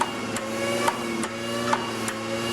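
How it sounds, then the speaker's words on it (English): A Bedini motor with a flywheel spins while a modulator switches it on and off, giving a steady whirring hum with sharp clicks at a regular beat, up close and with no talking. "A modulator switches the motor on and off, so preserving power while the flywheel keeps on spinning."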